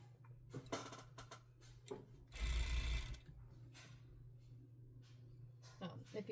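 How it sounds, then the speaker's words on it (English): A home sewing machine stitches the inseam of a pair of pants, its mechanical run rising briefly in a dense whirring burst amid quieter ticking handling sounds. "So we're gonna go ahead and sew that like all the way right here."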